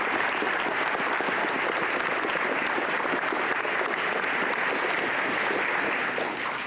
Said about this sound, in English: Let's give them a round of applause also.